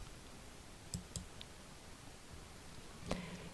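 Computer mouse clicking a confirm button: two soft, close clicks early, then a sharper click a couple of seconds later, over quiet room hiss.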